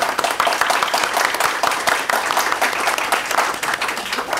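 Dense, steady applause from an audience at a book presentation, honoring Rogelio Cisneros; many hands clap close and loud for the full stretch without pause.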